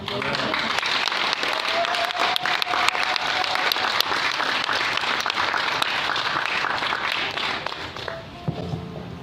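Sustained audience applause follows a religious talk on Mary, a thick, even wash of many hands clapping that carries on for the whole stretch before tapering slightly at the end, with some voices mixed in.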